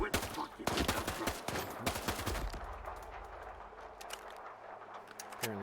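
Rapid video game gunfire cracks in loud, fast automatic bursts up close, then thins into scattered shots over a noisy background.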